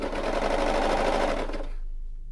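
A sewing machine stitching a seam on a boho bag, running in a fast, steady whir of needle strokes for about a second and a half before stopping abruptly.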